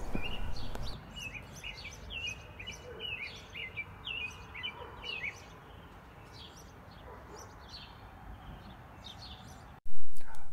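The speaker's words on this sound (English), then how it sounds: "right now I'll kind of be quiet and you can hear these birds chirp" Several birds chirp and tweet in a steady outdoor chorus, high and fairly close, over a low background rumble, ending with a sudden louder noise.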